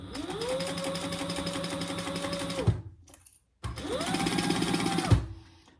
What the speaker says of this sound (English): we're going to sew it at a 1/4-inch seam allowance